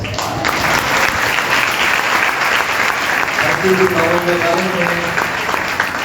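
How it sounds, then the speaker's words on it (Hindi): Audience clapping at a live Christian worship concert in Karachi, loud continuous applause from a large crowd, with a sustained voice or tone rising within it in the second half. "और आप तालियों में हमारे साथ"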